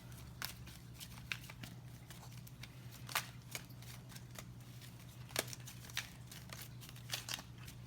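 Rapid crisp riffling and snapping of tarot cards in short bursts, fairly close and quiet, with no talking.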